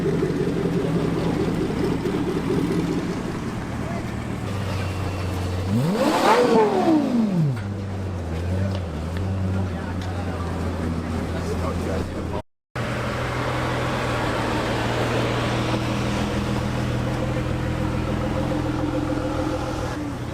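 A Hennessey Venom F5 Roadster revs its supercar exhaust at a car show, one loud rising and falling swell near the middle above a steady rumble of idling engines and crowd noise.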